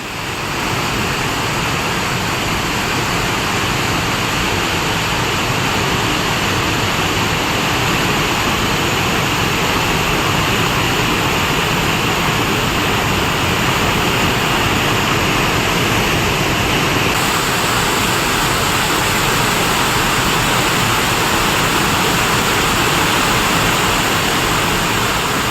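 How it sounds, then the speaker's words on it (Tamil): Floodwater roars down Panchalinga waterfall in the Thirumoorthy hills of Tiruppur district after sudden heavy rain, a loud, steady, unbroken rush that fills the whole stretch with no voices. "திருப்பூர் மாவட்டம் திருமூர்த்தி மலை பஞ்சலிங்க அருவியில் வெள்ளப்பெருக்கு ஏற்பட்டிருக்கிறது."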